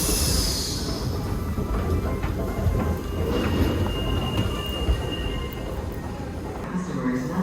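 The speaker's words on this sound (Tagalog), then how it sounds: "Parating na ang train in 1 minute." A train pulls into a station in Rome, a steady rumble with metallic squeals and clatter from the wheels, heard moderately loud throughout with faint background activity.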